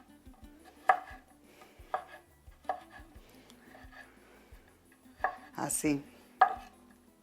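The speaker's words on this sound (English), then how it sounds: "We're going to go ahead and just chop these up." Knife chopping ingredients on a cutting board for chicken posole, a series of sharp, close taps in an uneven rhythm with a brief clatter near the end and a single short spoken word.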